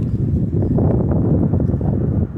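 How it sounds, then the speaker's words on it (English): Strong wind buffeting a microphone outdoors beside a hauling truck on a February day in Illinois, a loud continuous low roar with gusty rumbling throughout and no voices. "Now, the wind is blowing. I'm going to try to block it from the microphone."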